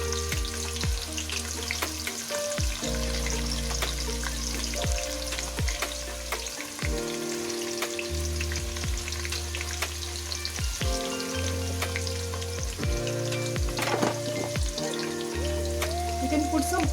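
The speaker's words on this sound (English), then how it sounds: "This is a technique to fry the onions faster." Onions fry in hot oil for chicken biryani, giving a dense, steady crackling sizzle close by, with a constant low hum underneath and scattered pops throughout.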